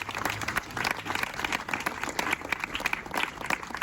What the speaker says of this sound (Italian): Un altro applauso, 9 milioni.